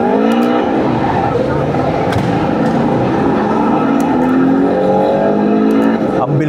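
An arcade racing game in a store, with a loud, continuous engine whine that rises and falls with gear changes, tyre screeches, and sharp game effect clicks layered over busy arcade noise.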